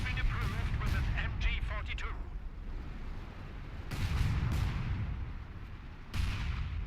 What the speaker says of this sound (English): It's the Casimir using the light artillery barrage.